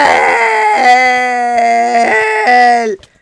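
A dog howls close by in one long, wavering, high-pitched cry lasting about three seconds, with the pitch sliding up and down before it cuts off abruptly. No one speaks over it.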